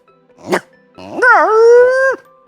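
A person's voice imitates a dog barking: one short yelp, then a longer, drawn-out bark that bends in pitch like a howl. Both are loud and close, with silence between them and no other talk.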